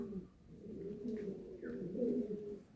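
Several Andhra pigeons coo softly and continuously at a pigeon sale, low rolling calls overlapping at close range with faint rustling.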